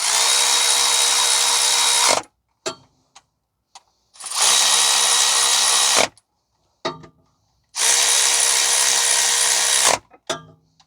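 Power tool, a drill or impact driver, running loud and near in three long bursts of about two seconds each as it tightens the rear differential mount bolts on a 2015 Toyota Sienna 3.5 V6 AWD, with short clicks and clatter between bursts.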